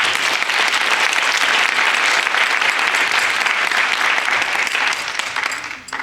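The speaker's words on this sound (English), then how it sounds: "a round of applause" Loud sustained audience applause at a 2014 ombudsman graduation ceremony, thick continuous clapping from a large crowd that begins to fade near the end.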